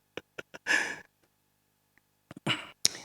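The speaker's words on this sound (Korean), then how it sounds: "아직도 기침이 자꾸 나려 있어" A recovering COVID-19 patient coughs in short, sharp bursts: a quick cluster of small coughs and a harsher one, a long pause, then another tight group ending in a strong cough.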